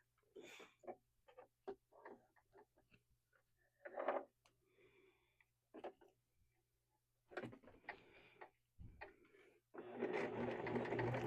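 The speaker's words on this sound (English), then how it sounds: "I'm going to do a little top stitch on this." A sewing machine top-stitches a pillow made from a repurposed quilt, running in short, close bursts of rapid mechanical whirring and ticking with pauses between, ending in a longer continuous run.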